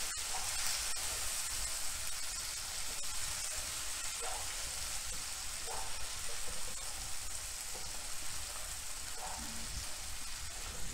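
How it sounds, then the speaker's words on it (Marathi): Onions sauté over a lowered flame, giving a soft, even sizzling hiss with occasional faint stirring scrapes throughout. "हे कांदे छान चांगले परतायचे."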